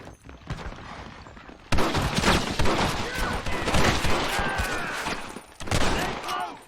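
Gunfire in the Red Dead Redemption video game, a quieter spell of shots and then a loud, dense burst of rapid overlapping volleys, with voices shouting in the mix.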